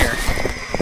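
A horse in the Roblox Westbound game gives a quick run of hoof clops with a brief whinny, all in under a second and fairly close.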